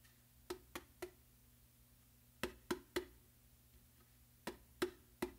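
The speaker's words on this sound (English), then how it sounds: "a tap ghost note with your non-dominant hand on the macho" Soft bongo taps with the non-dominant hand on the macho play ghost notes in small clusters of three, quiet and sharp, separated by pauses over a faint steady hum.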